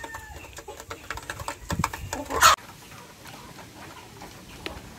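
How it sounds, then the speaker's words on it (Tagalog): Faint clucking and soft bird chatter from a group of heritage chickens feeding, with scattered light ticks and rustling in the background. "So yan yung ating mga manok mga ka-farmers"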